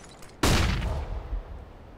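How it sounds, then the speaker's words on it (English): A flashbang grenade detonates in CS:GO after a short quiet lead-in: one sudden, loud, close blast that stays high for a moment, then a noisy ringing tail slowly fades. "I'm throwing a flashbang."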